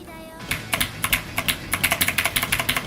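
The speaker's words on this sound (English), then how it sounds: "this keyboard is loud" A Cherry MX Blue mechanical keyboard clacks during a game of osu!, a quick run of sharp, crisp clicks tapped in a fast, fairly even rhythm, loud and close.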